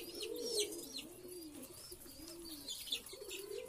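Pigeons, including grizzle birds, coo and call repeatedly in the morning at feeding time, a close, steady series of throaty rolling coos layered with a few higher chirps from other birds.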